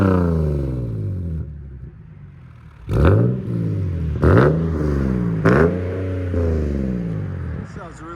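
A 2010 Nissan 370Z with a 3.7L V6 and Vibrant resonators idles with a deep exhaust drone, then snaps through three quick, loud revs that fall back each time, heard up close.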